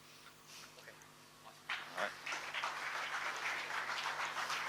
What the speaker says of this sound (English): Let's give this team a big round of another applause, please